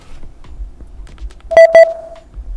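A phone call to an AI guest connecting: two short electronic dialing beeps ring out together, then a steady tone lingers and fades over a low background hum.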